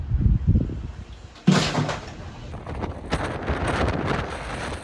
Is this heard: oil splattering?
no